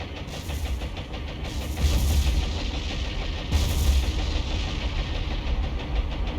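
Aircraft strafing gunfire in the naval combat game War On The Sea, heard as a steady engine drone with bursts of rapid firing rising over it at intervals, fairly muted and distant.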